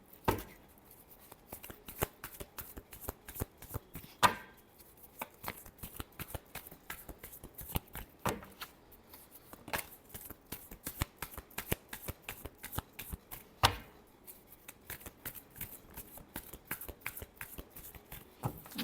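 A deck of tarot cards is shuffled over and over by hand, a long run of crisp riffling flutters and sharp taps with brief pauses between passes, close and clear.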